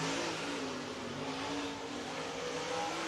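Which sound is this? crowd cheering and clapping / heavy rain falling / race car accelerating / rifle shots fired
race car accelerating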